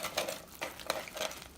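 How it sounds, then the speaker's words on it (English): A utensil stirs cheesy pasta with black beans in a pot, giving a few soft scraping and wet clinking strokes up close, with no one talking. "Give it a quick stir."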